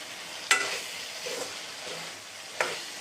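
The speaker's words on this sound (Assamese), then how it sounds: "অকনমান লৰাই দিওঁ।" A spoon scrapes and stirs pigeon meat curry in a pan, two sharp scraping strokes over a constant soft sizzle of frying oil, close up with no talking.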